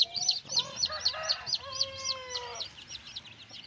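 Purebred Pamaiq straight-comb chickens in a small backyard, clucking and calling in quick repeated bursts with bright chirpy notes, fairly close and steady throughout, with no talk.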